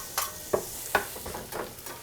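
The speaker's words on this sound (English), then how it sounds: "So my butter is almost melted perfectly. Sure is. I'm going to add the onion and get these cooking." Onions cook in melted butter, a faint low sizzle broken by a few soft clicks and scrapes of stirring, with no one speaking.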